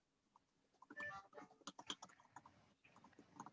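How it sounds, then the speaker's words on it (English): Fast typing on a computer keyboard, a steady patter of light key clicks at close range with brief pauses, quiet overall. "I'm typing it up."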